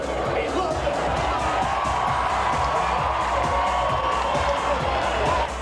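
A dense crowd noise fills a club packed with Newcastle Knights rugby league supporters celebrating the 1997 grand final win, with steady loud cheering and shouting that never lets up.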